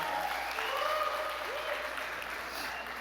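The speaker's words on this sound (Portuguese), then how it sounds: "Vamos aplaudir o Senhor" A church congregation applauds during a service, with sustained, even clapping and some voices calling out over the crowd.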